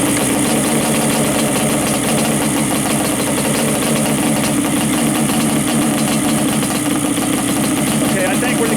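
A Yamaha Banshee engine idles fast and steady while still cold, a loud continuous rough drone with even vibration throughout and no pauses.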